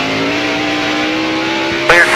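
NASCAR stock cars in the 2002 Virginia 500 accelerate at a restart, a loud sustained engine drone rising in pitch, with a sharper burst near the end under a race commentator's voice.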